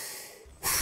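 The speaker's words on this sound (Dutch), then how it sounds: "Ik hijg en ik puf en ik blaas je boot vooruit." A short, breathy puff of air is followed by a strong, loud blow into a sailboat's sail, close to the listener.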